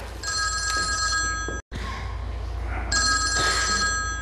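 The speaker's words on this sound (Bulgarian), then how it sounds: "Телефонът!" An old-style telephone bell rings loudly in two long bursts separated by a short gap, close and insistent, with a low hum beneath.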